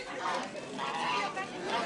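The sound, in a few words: geese honking during a parade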